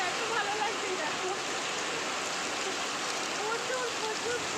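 Heavy rain pours steadily during a storm, a dense continuous wash of falling water heard close and loud throughout, with a voice faintly audible beneath it.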